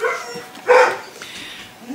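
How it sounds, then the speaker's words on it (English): Several dogs bark indoors as someone arrives home, one loud close bark burst in the middle with smaller yips and whimpers around it. "the dogs are barking because Mr. Cinnamon just got home from the store"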